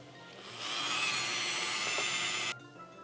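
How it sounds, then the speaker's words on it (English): A Dremel rotary tool grinds on a low setting for about two seconds, making a steady high-pitched whir that starts and stops abruptly, close by with no talking. "I'm going to take the Dremel, and I'm going to do it on a low setting first"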